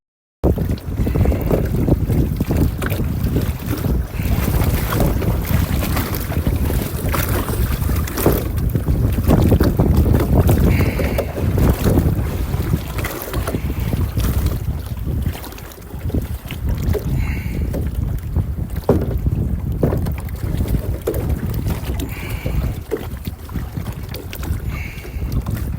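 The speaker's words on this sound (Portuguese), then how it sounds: "Tá ruim pra filmar, pessoal, mas tá ventando muito." Strong wind buffets the microphone steadily during kayak fishing at sea, a loud continuous rumbling gust noise with water sloshing against the boat.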